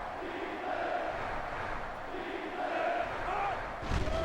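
A stadium crowd in the NCAA Football 06 video game, at a Holiday Bowl between the San Diego Toreros and North Dakota, roars steadily throughout, swelling and falling in waves, with a heavier thump near the end.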